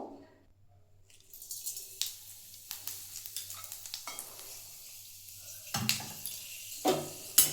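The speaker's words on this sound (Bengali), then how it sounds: "ফোড়নটা একটু ভেজে নিচ্ছি" Panch phoron five-spice seeds fry in hot mustard oil with a quick sizzle, soft crackling and occasional sharp bursts and pan clinks. The sound stays close and moderately quiet, with no talking.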